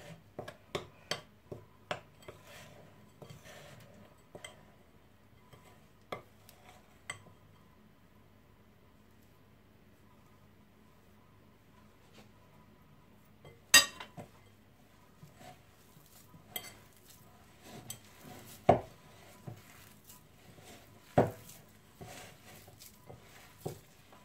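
Macaron batter of eggs and ground almonds being mixed in a bowl, with sparse irregular clicks and taps of the utensil against the bowl over a quiet background, growing a little louder and sharper toward the end.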